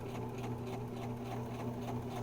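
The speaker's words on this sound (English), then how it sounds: "Then I'm going to sew forward, and I'm going to sew up till I get to the mark I made." A sewing machine stitches fabric forward while a zipper is sewn in, a steady close mechanical whir with a constant hum and no talk.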